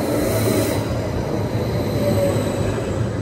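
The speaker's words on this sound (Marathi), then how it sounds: "आणि हे जेनिवाचं ट्रेन स्टेशन आहे" Loud, steady rumble of a train at Geneva train station, with a thin, high wheel squeal running through it.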